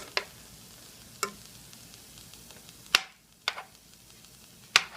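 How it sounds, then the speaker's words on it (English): Butter melting in a skillet while a utensil stirs it around, giving a handful of sharp, separate clicks and scrapes against the pan over a faint background. "put 2 tablespoons of butter, margarine, whatever, in the skillet"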